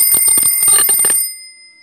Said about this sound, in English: So alarm is on, and if you flick it down, then alarm will stop.